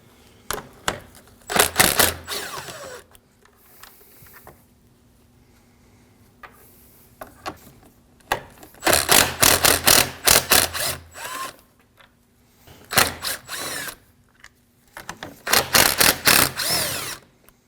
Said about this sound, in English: we just have 4 10 millimeter bolts along the top. We'll remove those and remove the fans.